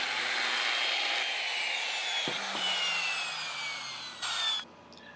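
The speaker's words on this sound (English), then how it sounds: "A router will give each base a nice little decorative edge." A router whines steadily as it shapes a decorative edge on a pressure-treated wood table base, a high, continuous grinding buzz that cuts off abruptly near the end.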